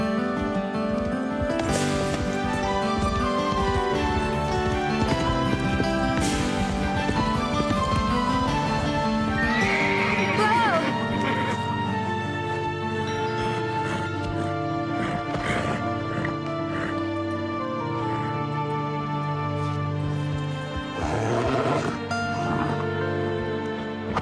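Racehorses heard amid music, with scattered hoof clip-clops and a brief neigh or whinny midway, moderately loud under a steady musical background.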